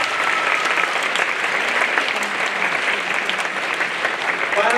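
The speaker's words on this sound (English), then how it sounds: "can we give a round of applause for all of our audience members here" Sustained applause from an audience at a school holiday show, many hands clapping in an even, continuous roar at moderate loudness, with a few voices mixed in.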